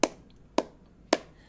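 Three loud, separate flamenco hand claps of the low-pitched, hollow cupped-palm type, evenly spaced about half a second apart, close and dry with nothing else sounding.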